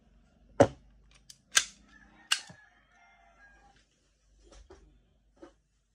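A WE 1911 airsoft pistol fires three sharp, snappy shots about a second apart, close and loud against a quiet background, followed by faint handling clicks.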